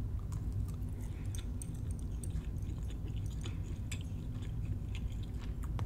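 Biting and chewing into a fried jumbo lump crab cake from a restaurant, close up, with steady crunchy mastication and small crisp bites repeating over a low constant background hum, no talking.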